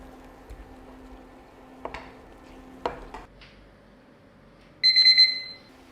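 A cooking timer set during a stir-fried fish cake cooking activity goes off with a short burst of bright, loud electronic beeps at the end, after a steady hum and a few clinks of a spatula and pan.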